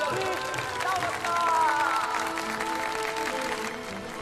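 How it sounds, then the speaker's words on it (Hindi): Steady applause and crowd noise from an audience greeting a cricket player on a Hindi TV comedy set, sustained at moderate loudness with tonal music lines and voices mixed in throughout. "भाई और बहनों, जोरदार तालियों से स्वागत कीजिए मिस्टर"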